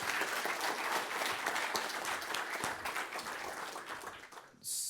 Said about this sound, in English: Round of applause for Chris.